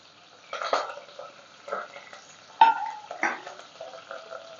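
Green chilies and curry leaves dropped into hot oil in a pan while puffed rice bhadang is being made, giving a few sharp sputtering bursts and scraping stirs against a quiet background.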